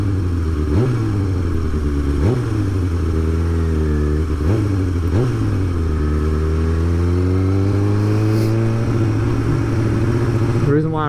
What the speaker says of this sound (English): Why I rev my bike like that is just to keep the idle up, because sometimes it gets really low and gets jerky